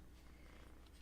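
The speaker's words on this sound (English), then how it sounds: "You guys hear her purring? She's purring loud." A cat purrs loudly and close to the microphone, a continuous low rumbling buzz with no pauses through the short moment, and no other sounds.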